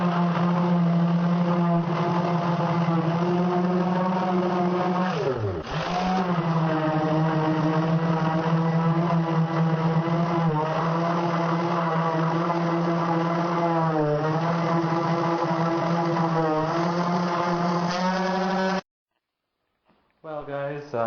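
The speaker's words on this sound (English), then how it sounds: "I got my handy dandy Black & Decker sander, so let's get at it." A Black & Decker power sander runs on baseboards, giving a steady, close, buzzing motor whine that holds for about nineteen seconds, dips briefly once, and then cuts off.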